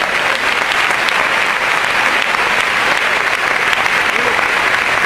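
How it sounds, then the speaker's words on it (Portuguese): Church congregation applauding in praise, a dense, steady wash of clapping that fills the whole stretch evenly at close range, with a voice faintly mixed in. "Pode aplaudir o Senhor"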